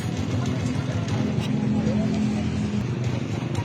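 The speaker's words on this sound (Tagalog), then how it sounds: "Ganda ng tunog ng timing gear, oh." A freshly overhauled and rebored engine idles steadily with a continuous mechanical hum and timing gear whine, close by, while people talk over it.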